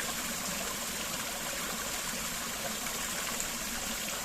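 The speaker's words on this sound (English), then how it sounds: "just watching the water running down from the well" Water runs steadily from a holy well at the source of the River Sheppey in a quiet village, a continuous close-up trickle and burble that holds even and alone throughout.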